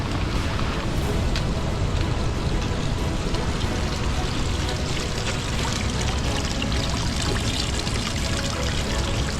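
Water spills steadily from a small wooden channel beside a mountain trail near Andraz and Col di Lana in the Dolomites, a continuous close, loud splashing pour with no break.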